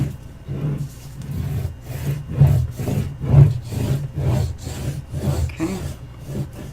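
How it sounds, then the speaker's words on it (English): A finger slides back and forth along paper to burnish it, making a close, soft, rhythmic rubbing with about a dozen even strokes and no talk. "I'm gonna burnish it."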